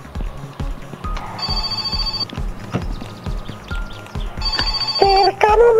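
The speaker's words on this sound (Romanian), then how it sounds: "Sună telefonul." A telephone rings in a game set around a summer car, with tonal ringing bursts over rhythmic clip-clop-like thumps and ambient game noise, moderately loud.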